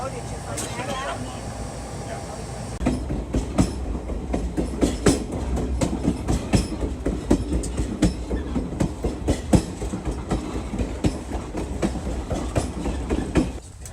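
Napa Valley Wine Train rolling along the rails, with a steady rhythmic clickety-clack of wheels over joints and a rumbling carriage, close and continuous, with people talking inside the car.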